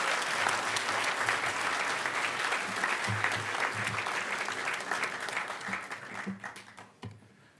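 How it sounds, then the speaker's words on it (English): A conference crowd at a hacker gathering's closing ceremony gives a sustained round of dense applause that gradually thins and dies away toward the end. "Everybody give Greg and the speaker selection committee a huge round of applause."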